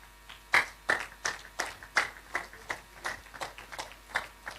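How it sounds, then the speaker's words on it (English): A small audience claps for a guest walking to the high table at a World Intellectual Property Day event, a sparse run of distinct hand claps in a fairly regular rhythm, close and clear, without talk. "please keep clapping for him as he makes his way"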